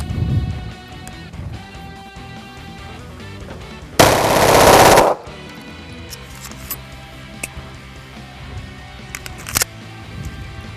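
Pistol shots fired with a correct two-handed grip on a range: a dense, loud burst of rapid shots lasting about a second midway, with quieter scattered clicks and ambient range noise around it.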